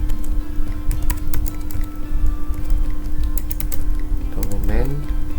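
Keys clatter in quick, uneven runs on a computer keyboard while commands are typed to copy files on Linux. A steady hum runs underneath, and a voice briefly cuts in near the end.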